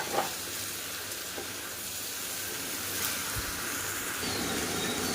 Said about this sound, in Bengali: ইঁচড়টা দিয়ে এবার খুব ভালোভাবে সমস্ত মশলার সাথে ইঁচড়টাকে একটু কষিয়ে নেব।